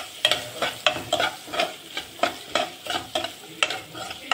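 Onion frying in a pan for a ridge gourd and tomato chutney, stirred with a spatula in a quick, even rhythm of scraping strokes about twice a second over a light sizzle, close and clear.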